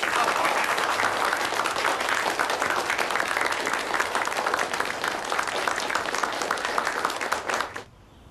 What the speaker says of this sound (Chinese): 咱们给两位先生都鼓鼓掌